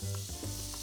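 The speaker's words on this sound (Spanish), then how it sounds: "Y lo vamos a poner a sellar." Salted beef loin sears in a hot pan, a steady, close sizzle with fat crackling throughout the short moment.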